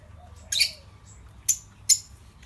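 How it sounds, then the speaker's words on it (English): Peach-faced lovebirds give three sharp, bright chirps and squawks spaced about a second apart, fairly close against a quiet background with no talking. "Lovebirds."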